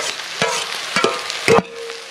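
Onions hit a hot pan for spicy Maggi noodles and sizzle loudly, with several sharp scraping stirs and clatters over a continuous frying hiss.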